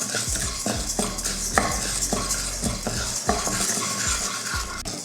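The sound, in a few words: toor dal being dry-roasted and stirred in a kadai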